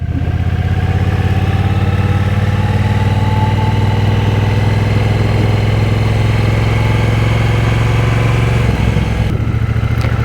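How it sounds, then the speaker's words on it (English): A 2023 Triumph Bonneville Bobber 1200 twin sits idling, a loud, close, even rumble that holds steady throughout before a brief change near the end. "This Triumph 1200 bobber it's a little bit of a bike."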